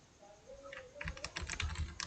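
A computer keyboard is used to press the Ctrl+Z shortcut while a table is edited in MS Word. A faint tone is followed by a quick run of crisp, close key clicks that grows busier in the second half.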